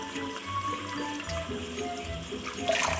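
Tap water runs steadily while dishes are washed at a kitchen sink, a continuous close splashing hiss with faint clinks and no talking.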